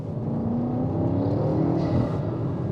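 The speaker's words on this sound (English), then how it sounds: "this has got even Venturi intakes, and the induction noise is just absolutely mad" A BMW X5M SUV engine with Venturi intakes drones steadily under load, its deep induction roar loud and continuous throughout.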